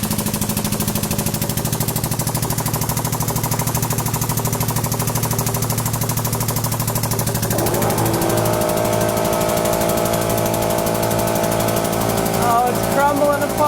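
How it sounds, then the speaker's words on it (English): A hydraulic press grinds down on a mirror-polished Japanese aluminum foil ball, its motor and pump droning loudly and continuously with a rattling mechanical pulse that shifts in pitch partway through as the load changes. "Japanese aluminum foil ball in the hydraulic press."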